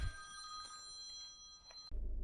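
A telephone bell rings steadily for nearly two seconds with sustained tonal trills, then cuts off abruptly, giving way to a low rumbling noise.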